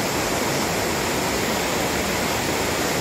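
Rushing river water near Buo Falls in Tuba, Benguet, a steady broadband roar that fills the scene from start to finish, loud and constant with no voices.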